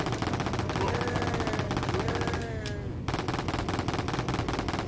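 Rapid automatic gunfire in Wolfenstein 3D on the Atari Jaguar: fast, evenly spaced shots rattle on in a near-continuous loud burst, with a short pitched sweep of another game sound partway through.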